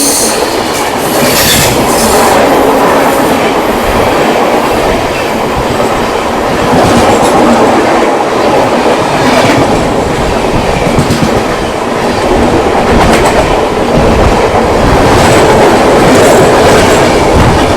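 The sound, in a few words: train running at speed, clickety-clack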